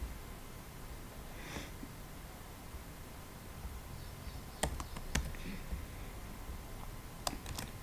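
Keys tapped on a computer keyboard while a quiz question is entered, a few sparse, sharp clicks and short bursts of typing over a quiet hiss.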